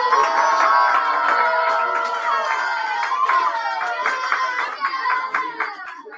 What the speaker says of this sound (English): he really deserves a big round of applause